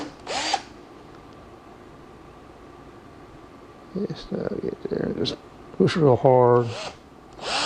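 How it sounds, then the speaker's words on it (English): A power drill bores into a door during a door replacement, giving short grinding bursts as the bit is pushed hard, with someone talking over and between the bursts. "You put your drill down there, you get it centered"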